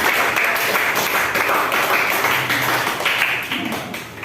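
Classroom students clapping together, a loud close burst of dense hand claps that carries steadily and tapers slightly toward the end, with no talking over it.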